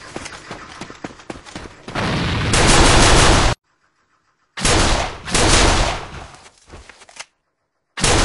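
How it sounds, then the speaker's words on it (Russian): Rapid gunfire in the shooter game A.V.A, followed by two loud, sustained blasts from a thrown grenade, with brief silent gaps between the bursts. "Бросаю гранату!"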